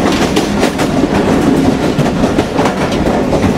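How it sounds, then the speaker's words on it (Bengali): The Banglabandha Express from Rajshahi to Panchagarh rolls along the rails, a loud, close, continuous rumble with rhythmic clickety-clack of the wheels and carriages rattling throughout. "চলে গেল আমাদের বাংলা বান্ধা এক্সপ্রেস।"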